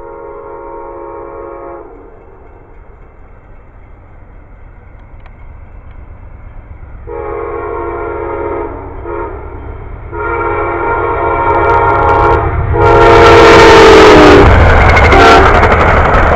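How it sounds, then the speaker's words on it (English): A train rumbles past with rising loudness, its horn sounding in repeated blasts before the wagons' roar swells up close near the end. "here comes another train."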